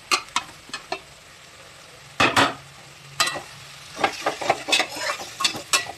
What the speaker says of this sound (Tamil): இந்த ஸ்டேஜில் தக்காளி ஒரு 3 தக்காளி கட் பண்ணி வச்சுருக்கிறத போடணும்